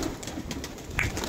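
Released loft pigeons give a short, soft cooing call at moderate distance amid quiet outdoor ambience.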